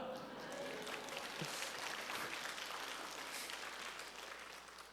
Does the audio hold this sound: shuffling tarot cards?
no